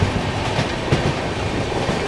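The Haldia Anand Vihar Express rumbles past nearby, steady rolling wheel noise with faint clickety-clack over rails, heard alone without talk.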